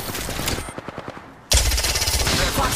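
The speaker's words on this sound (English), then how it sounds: "Gunshots fired and they're hitting me." Video game gunfire: a rapid burst of close automatic shots, a short pause with a few scattered pops, then a sudden loud, dense barrage of fire that continues to the end.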